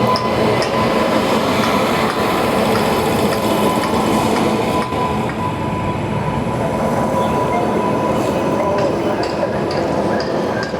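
The Amritsar Nanded Sachkhand Express sits at the platform where it terminates, giving a loud, continuous rumble and hum with brief clanks and a short dip midway. Someone talks over the noise.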